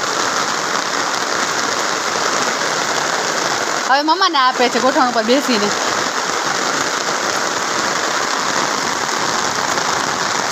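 Heavy rain pours steadily and loudly throughout, a dense unbroken hiss of drops on surfaces, while a voice talks briefly over it.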